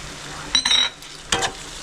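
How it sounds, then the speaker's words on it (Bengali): Spice paste for chicken roast is stirred in a pan with a little water, giving two short scraping, sizzling strokes of a spoon against metal, close and separated by a quiet gap. "জলটা দিয়ে ভালো করে কষাচ্ছি।"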